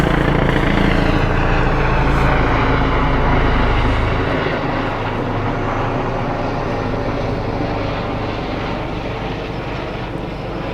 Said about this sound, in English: there's an helicopter just flying by